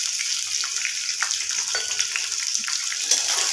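Green peas tossed into a pan of frying potatoes and cauliflower sizzle in a steady, close crackle with faint stirring ticks and no talking.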